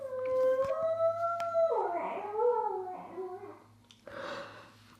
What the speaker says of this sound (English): their dog just made the cutest whine ever